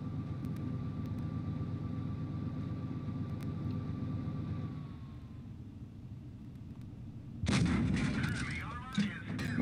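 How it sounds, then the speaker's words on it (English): A tank gun fires in World of Tanks Blitz, a sudden loud broadband blast cutting in after a steady engine rumble and brief quiet, followed by a fading rattle. "I'm gonna shoot you in the back of your turret"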